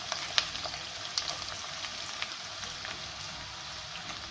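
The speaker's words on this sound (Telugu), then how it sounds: "వేడి అయిన తర్వాత మనం పొడుగ్గా కట్ చేసుకున్న ఉల్లిపాయని వేసుకుని ఫ్రై చేసుకుందాం" Long-sliced onions fry in hot oil in a pan, a quiet continuous sizzle and crackle with small pops scattered throughout, heard alone without speech.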